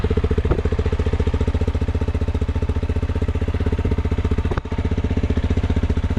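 An enduro motorcycle engine with a factory exhaust idles steadily at close range, its exhaust putting out a rapid, even, thumping beat that carries through the whole clip.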